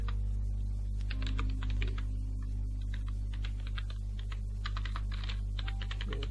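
Rapid, uneven keystrokes on a computer keyboard while entering a transaction partner's name into invoicing software, close and clear over a steady low electrical hum, with no talking.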